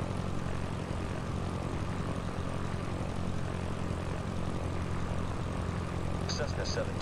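A Cessna's propeller engine drones steadily after the throttle is pulled back in the Sierra Pro Pilot flight simulator, a constant loud cabin hum with no break, while a voice talks faintly underneath.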